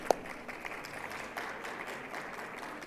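Applause from a conference audience at an education panel, a steady broadband patter of many hands clapping for about three seconds with no voices over it.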